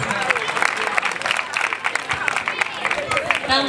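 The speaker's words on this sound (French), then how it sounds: "Applaudissez-le." Audience applause at an official school award ceremony, sustained dense clapping from a crowd throughout, with voices mixed underneath.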